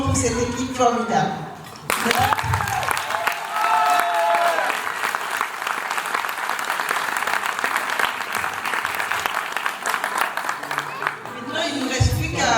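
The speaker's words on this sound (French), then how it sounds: "Un tonnerre d'applaudissements pour cette équipe formidable." Thunderous applause from wedding reception guests after a tribute to the team behind the celebration, dense sustained clapping lasting several seconds, with voices heard before and after.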